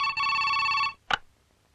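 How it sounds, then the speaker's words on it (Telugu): A telephone rings in one loud, close electronic ring that stops abruptly, followed by a single short click, with no talking. "ఫోన్ తీయమ్మా"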